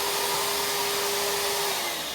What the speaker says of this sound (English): this is a multi-cyclonic vacuum cleaner